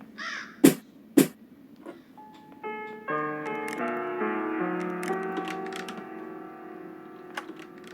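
In the horror game Granny, a crow gives two sharp, close caws, and then a tinkling, ticking melody plays on quietly behind them.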